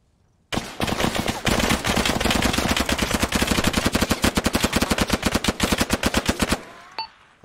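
Sustained machine gun fire in the military shooter Arma 3, a loud close burst of rapid automatic shots lasting about six seconds with a sharp onset and a tapering end, no voices.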